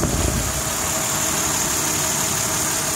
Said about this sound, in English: This one is the 4-liter V6